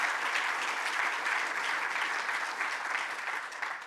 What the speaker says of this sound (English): I'd like, please, to make a big applause